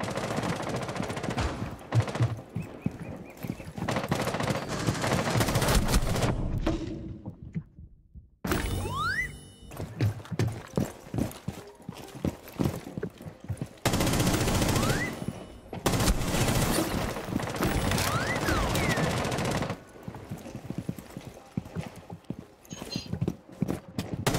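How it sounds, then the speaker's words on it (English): Rapid bursts of gunfire, automatic and single shots, in Rainbow Six Siege team deathmatch, crackle repeatedly through a busy, loud mix with occasional dings and abrupt cuts. "I have no idea where the gunfire is."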